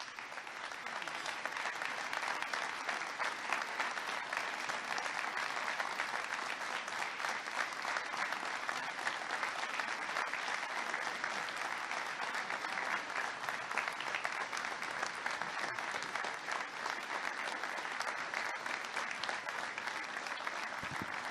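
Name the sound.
audience applause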